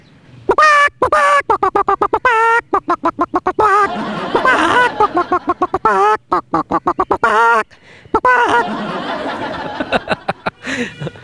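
A man vocally imitates a hen's excited clucking after laying an egg: rapid bursts of loud, close cackles and squawks in an uneven rhythm, with short pauses and a few laugh-like chortles between phrases.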